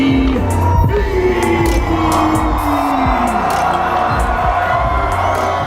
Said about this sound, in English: a round of applause for Gary.